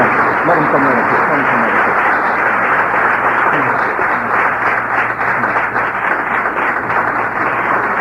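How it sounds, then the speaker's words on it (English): Audience applause at a public speaking event, a dense, steady wash of clapping that stays loud and unbroken for the whole stretch, with some voices mixed into it. "Let's bring them on with a warm round of applause."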